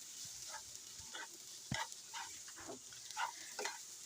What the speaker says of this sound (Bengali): নেড়ে চেড়ে নামিয়ে নিব